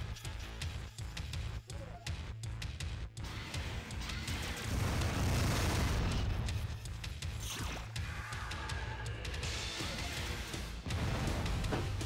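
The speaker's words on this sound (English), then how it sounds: "Hey, who's shooting at me?" Gunfire and explosions in the video game Descent 2, a steady dense barrage of blasts and bangs with a louder swell in the middle, continuous throughout with no talking.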